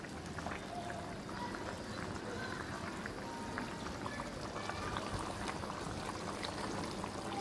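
Curry being stirred in a pan as it simmers and thickens, a steady bubbling, sizzling wash with faint scraping, continuous and close, with no talking.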